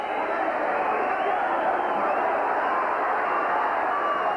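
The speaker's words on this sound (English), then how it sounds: "What a place, what a transformation in a ground in Tynecastle when you get a big crowd like this." A big football crowd of about 17,000 fills Tynecastle for Hearts against Slavia Prague in a UEFA Cup first-round first leg, making a steady, dense roar with no breaks.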